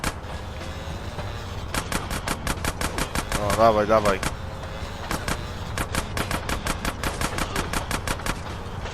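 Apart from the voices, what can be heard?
gunfire in the video game GTA San Andreas Definitive Edition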